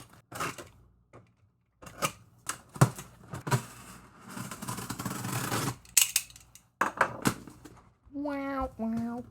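Scissors cut open a comic book shipping package, with repeated sharp snips and crinkling cardboard and plastic up close. Someone talks briefly over the cutting, and a short burst of tonal speech comes near the end.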